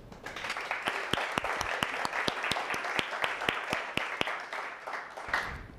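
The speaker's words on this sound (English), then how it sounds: "A big round of applause for Marseille" Audience at a tech product management talk applauding a speaker: steady, dense clapping from a sizeable crowd, loud and sustained for several seconds before starting to thin out.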